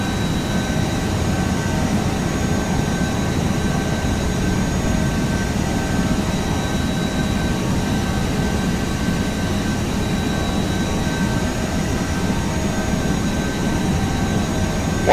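A Wizz Air airliner's jet engines held at takeoff thrust in a Prepar3D flight simulator, a loud, steady, unbroken roar with a low rumble and a thin high whine running throughout.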